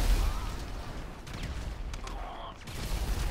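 Rapid bursts of gunfire from a GTA 5 police chase firefight on PS4, a steady barrage of shots with booming hits, loud and continuous throughout.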